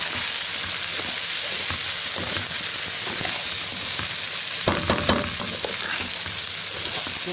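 Loud continuous sizzling as rice, salt and water go onto vermicelli frying in a pan for koshari, a steady hiss with a burst of splashing and bubbling midway, close up, with no speech.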